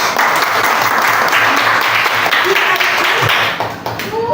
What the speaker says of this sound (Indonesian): Tepuk tangan buat anak ibu.